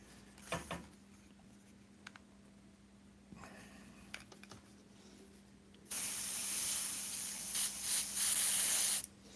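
Airbrush spraying Createx paint onto Blair synthetic paper: quiet handling and faint taps at first, then a loud, steady close hiss of spray lasting about three seconds before cutting off.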